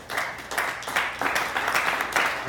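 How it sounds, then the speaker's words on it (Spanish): Church congregation applauding, a dense burst of hand clapping in irregular surges, moderately close and filling the room for a brief stretch. "dale fuerte entonces el aplauso al Padre, Hijo y Espíritu Santo"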